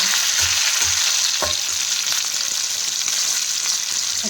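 Onions sizzle steadily in a hot pan with bitter gourd and potato, giving a continuous bright hiss broken by a few soft clacks of stirring, close and without voices.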